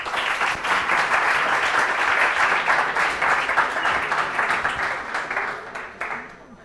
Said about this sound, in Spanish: un gran aplauso y vamos a empezar